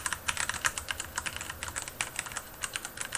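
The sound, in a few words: typing on Philco Magistouch mechanical keyboard, Cherry Brown switches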